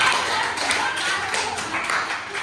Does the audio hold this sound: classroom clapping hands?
yes